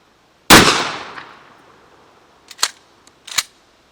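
A shotgun firing a low-powered 8-shot shell at a vehicle door outdoors, one loud sharp blast with a decaying ring, followed by two smaller distant pops.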